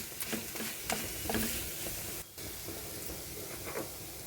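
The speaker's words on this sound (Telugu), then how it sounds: "పచ్చి కొబ్బరి, పచ్చిమిరపకాయలు వేసుకున్న పేస్ట్ ఫ్రై చేసుకోవాలి" Fresh coconut and green chili paste frying in a pan, giving a soft, continuous sizzle with occasional scraping or stirring clicks throughout.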